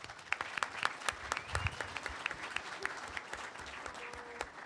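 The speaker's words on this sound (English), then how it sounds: "And round of applause." A debate audience gives a round of applause, scattered distinct claps at moderate distance forming a loose, uneven patter without talk.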